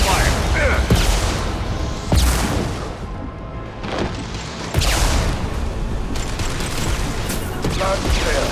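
Bursts of gunfire and heavy booms in the Mass Effect 2 Legendary Edition shooter come in sharp clusters over a few seconds, loud and close, mixed with game background noise and some voices.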